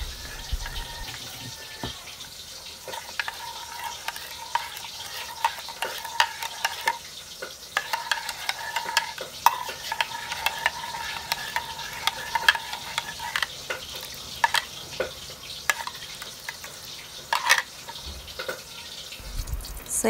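A spoon stirs an oyster sauce mixture in a pan, with soft scraping strokes and clinks over a steady background sizzle of frying, and no talking.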